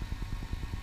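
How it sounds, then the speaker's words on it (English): A steady engine idles with an even, throbbing low pulse, close and continuous, no voices. "Engine running."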